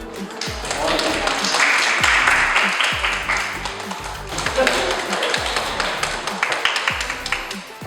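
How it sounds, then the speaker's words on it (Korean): Applause at a workshop for a FEALAC citizens' delegation: clapping from a group runs throughout, with heavy low thumps and handling knocks close to the microphone, and speech-like sounds mixed in. "박수 부탁드립니다"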